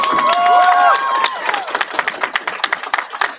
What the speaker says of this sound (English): Can we have one more round of applause for Evan,